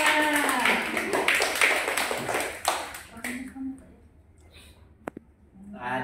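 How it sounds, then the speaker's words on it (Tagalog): Audience clapping at a Filipino gathering, a dense burst of applause that swells, then thins out and stops, leaving a few scattered claps. "Palakpak naman"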